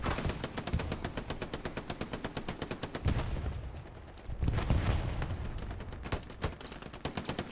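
Automatic machine gun fire in a Hell Let Loose World War II battle, with dense rapid bursts of rattling shots running nearly throughout, a brief lull in the middle, then more sustained fire with scattered distant gunshots.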